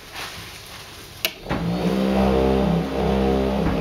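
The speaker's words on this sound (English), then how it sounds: "The wheels are spinning." Tennis ball machine wheels spinning up after a sharp click, a motor whine rising and then holding as a loud steady hum with harmonic tones.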